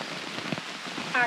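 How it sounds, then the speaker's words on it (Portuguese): Heavy rain drums steadily on a tent during a rainy trekking day along a railway viaduct route in Rio Grande do Sul, a dense continuous hiss with a few louder drops and no talk. "E dá-lhe chuva! Vai molhar tudo aí."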